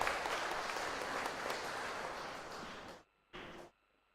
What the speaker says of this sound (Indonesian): Kita tepuk tangan untuk ibu.